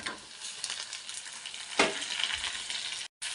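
Tomatoes and onions frying in a pan for paneer gravy, a steady close sizzle with stirring scrapes and a brief louder clatter midway, then a short drop to silence near the end.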